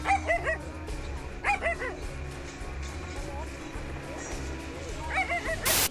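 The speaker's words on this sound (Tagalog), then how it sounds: "Tinahulan ito ng dalawang aso para umalis." Two dogs barking at a king cobra on a farm plot, short bursts of sharp barks in three clusters spread across the stretch, moderately close, with a person talking underneath.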